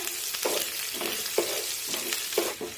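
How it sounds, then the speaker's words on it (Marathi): Finely chopped green chillies sautéing in a pan, with a constant close sizzle and a few rhythmic scraping stirs spaced about a second apart. "दोन ते तीन हिरव्या मिरच्या बारीक कट केलेल्या आहेत त्या टाकूया परतून घेऊया"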